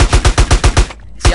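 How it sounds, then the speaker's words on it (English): A machine gun fires in GTA: San Andreas Multiplayer, a loud close rapid burst of about seven evenly spaced shots, a brief pause, then one more shot. "I'm shooting him directly in the head!"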